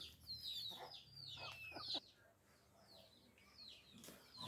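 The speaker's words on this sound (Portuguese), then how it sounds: "Ali é meu pai tirando a galinha. Galinha choca." A broody hen clucks repeatedly as she is lifted out, with sharp agitated squawks and calls near the start and softer clucks later, fairly close in a quiet yard.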